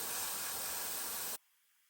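A short test burst from a spray paint can or airbrush for a Tamiya 1/24 Nissan Z model kit: a loud, steady hiss lasting over a second, then cutting off abruptly into near silence.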